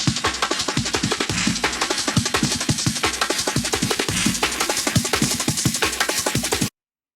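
A drum loop in a drum and bass intro, pitching upward, plays loud and dense with rapid, continuous hits for nearly seven seconds before cutting off abruptly into silence.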